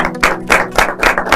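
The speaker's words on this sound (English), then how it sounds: "I think that deserves a round of applause." Close, loud clapping at a science competition awards event for girls and women as first-prize winners are announced, a few sharp rhythmic claps in a steady pulse about every quarter second.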